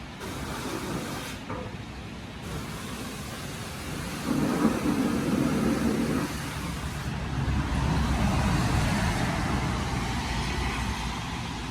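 Heavy rain pours steadily over an earthen pond while thunder rumbles loudly, swelling in the middle and toward the end as one continuous roaring downpour.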